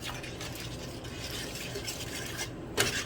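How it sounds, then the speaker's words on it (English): Seasonings stirred into a pan of carnivore mock Hamburger Helper, a close, steady rasping scrape of a utensil through the mixture with a slightly louder scrape near the end, no talk. "I'm just going to stir this around"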